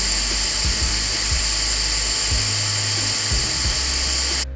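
A Neato D3 Connected robot vacuum runs close by with a steady, high-pitched whine and motor drone, broken by small bumps and clicks, then cuts off abruptly at the end.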